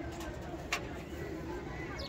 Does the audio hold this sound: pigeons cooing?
yes